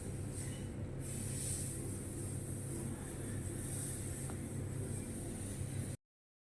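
Okra fries in hot oil for a vegetarian bhindi dish, giving a steady, dense sizzle and hiss that holds evenly at close range with no talk over it.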